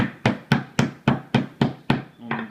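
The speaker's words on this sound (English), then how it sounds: "then of course you want to hammer them. And the idea is to hammer them flat." Schnitzel meat being hammered flat with a kitchen mallet, about seven loud, evenly spaced thumping blows close by, each with a short ringing decay, and a fainter final tap.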